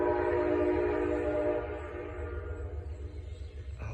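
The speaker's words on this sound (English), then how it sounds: "you get to hear the train going through" A train rumbles past with a steady low roar and rail noise, gradually fading as it moves away.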